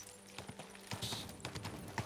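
Stolen horse's hooves clip-clopping in Kingdom Come: Deliverance II, a steady, fairly quiet rhythm of hoofbeats on a ride across the landscape with faint ambient background.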